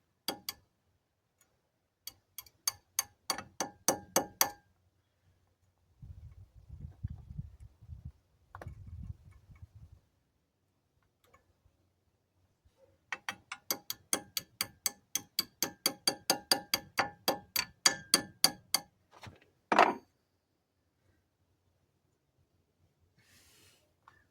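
Sharp, rapid taps from a makeshift hammer in several quick bursts separated by pauses, with softer scuffing noises between them, close and fairly loud, while fixing a Toyota Tercel 4WD wagon.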